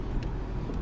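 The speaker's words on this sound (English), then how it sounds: "I'm actually in my car on the road." A car driving on the road heard from inside the cabin, a low steady engine and road rumble with faint brief hisses of passing traffic, no voices.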